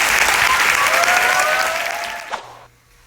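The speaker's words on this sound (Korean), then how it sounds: "다시 한번 오늘 우리에게 이 멋진 영화를 보여준 세 분께 큰 박수 부탁드립니다." A film screening audience claps steadily and fairly loudly, thinning out and stopping abruptly after a couple of seconds, with faint voices mingling in the crowd.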